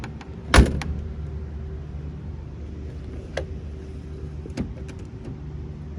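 A sharp metallic clunk as the hood latch of a 1969 Chevrolet Corvette with a numbers-matching 350 V8 releases, followed by a quieter click or two against a low steady background, with no speech.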